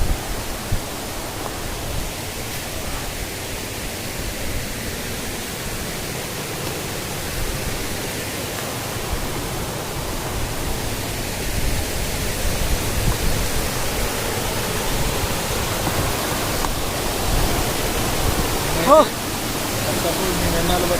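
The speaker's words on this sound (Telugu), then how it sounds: "వాటర్ ఫాల్ దగ్గరికి అయితే వచ్చేసాం మనం" Muthyamdhara waterfall in a forest, a steady broadband rush of falling water filling the whole stretch at even loudness, with a brief faint tonal chirp near the end.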